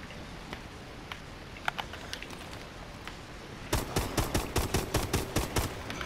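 Rapid pistol gunfire from a Call of Duty: Advanced Warfare Exo Zombies match: scattered sharp shots early, then a fast, loud run of about ten evenly spaced cracks over the game's background noise.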